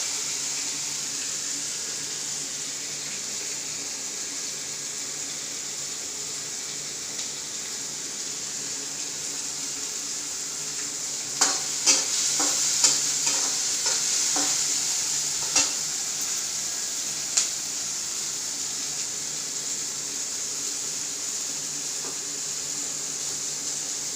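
Methi (fenugreek) bhaji cooks in a home kitchen, a low steady sizzle running throughout, with a brief cluster of light clinks and scraping stirs midway, then quieter taps, with no talking.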